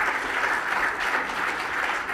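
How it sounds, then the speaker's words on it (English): Audience applause rises at a speaker series talk on beauty, a steady, dense roar of many hands clapping together, even in loudness from start to finish with no voices over it. "let's give her a round of applause real quick"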